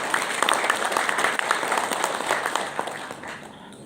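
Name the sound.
crowd applause at political rally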